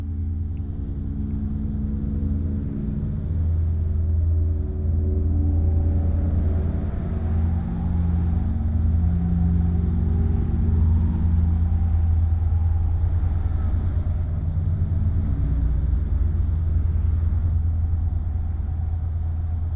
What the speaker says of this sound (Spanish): Camiones y coches particulares atestados de milicianos madrileños salen al alba rumbo a Toledo